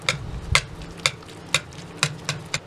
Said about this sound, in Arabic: وهنقلب كويس